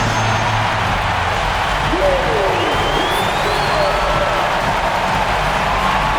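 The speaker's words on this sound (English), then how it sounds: "One more time, a round of applause." A large video-game crowd in NBA 2K26 applauds and cheers in a steady wash of clapping, with a few whistles rising above it, during a playoff game.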